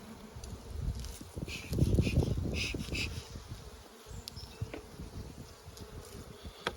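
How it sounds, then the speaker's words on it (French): Dense, steady buzzing of many honeybees from an opened hive, surging loudest around the middle and humming on close and continuous, with no talk. "On ouvre le cœur de la ruche."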